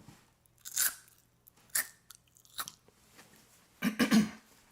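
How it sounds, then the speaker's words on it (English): Salted rice crackers are crunched up close in several sharp, separate bites, with quiet pauses between them and a heavier double crunch near the end. "It's just salt and rice crackers. But it's a pretty satisfying crunch."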